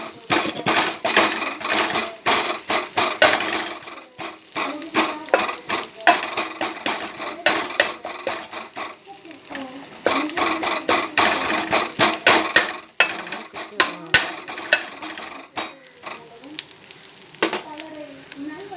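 A tumbler is jabbed repeatedly into food cooking in a hot pan, giving busy clinks and knocks over a continuous sizzle. The irregular pokes stay close and fairly loud throughout.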